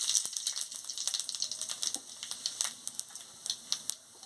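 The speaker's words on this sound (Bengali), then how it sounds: "আমি পাঁচ ফোড়ন আর শুকনো লঙ্কাটা দিয়ে দিচ্ছি" Panch phoron and dried red chillies crackle in hot oil in a kadai, with a dense spray of fine sizzling pops and spits running steadily throughout.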